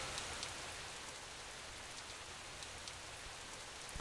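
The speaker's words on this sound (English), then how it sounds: "It was raining heavily that day, kind of like how it was right now." Heavy rain pours steadily with a dense, even hiss of drops on surfaces, a constant wash from start to finish with no voices.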